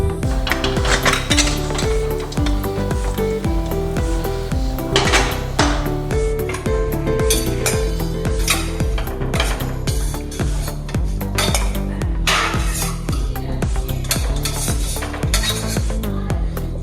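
Pots and utensils clatter and clink continuously as boiled chicken is separated from its stock after pressure cooking, with busy metallic knocks close by throughout.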